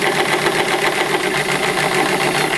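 Sewing machine stitching fabric with a finger held firmly behind the presser foot to crimp it, a steady close rapid whirring hum that runs without pause.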